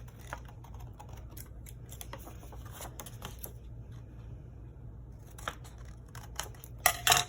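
Scissors snip through a paper coin envelope in quick, close bursts of crisp cuts, with short pauses between runs of snipping and a faint low hum underneath.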